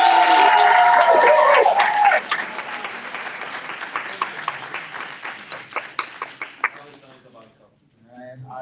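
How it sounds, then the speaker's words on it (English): Audience at a live show in Las Vegas breaks into applause, starting under a voice before settling into scattered claps that thin out and fade toward the end. "just give me a good round of applause."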